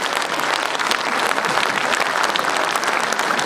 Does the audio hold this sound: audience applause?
yes